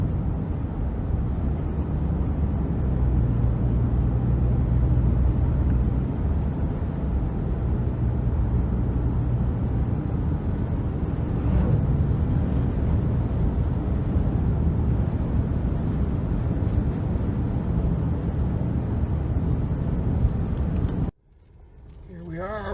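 A car drives along steadily toward the family lodge, its low engine rumble and road noise running continuously for a long stretch with some wind buffeting, then cutting off abruptly near the end.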